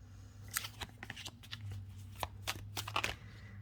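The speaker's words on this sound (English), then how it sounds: "Let me just shuffle these real good once more" Tarot cards being shuffled with quick riffling bursts and soft slaps, close and fairly quiet, over a low background hum.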